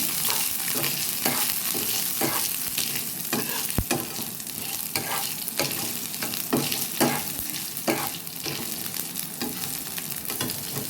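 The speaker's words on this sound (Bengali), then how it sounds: "একটু গ্রেটেড আদা। ভালো করে ভেজে নিয়ে" Grated ginger fries loudly in hot oil for a tempering for Odia mixed vegetable dal, with a constant crackling sizzle and rhythmic stirring scrapes, plus one sharp knock against the pan.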